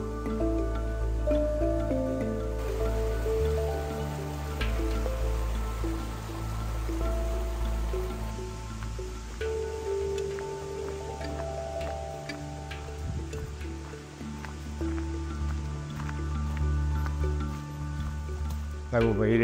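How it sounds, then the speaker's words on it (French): Waterfalls at Plitvice Lakes in Croatia pour in a steady, full rush of falling water that fills the whole stretch, with low continuous roar and scattered splashing and dripping throughout. "là on approche des premières cascades."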